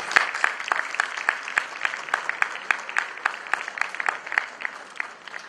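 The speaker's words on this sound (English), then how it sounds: "Please keep clapping." A small audience at an Indian Talent Discovery Foundation awards ceremony claps steadily with sharp, distinct, evenly paced hand claps, fairly close and without talking.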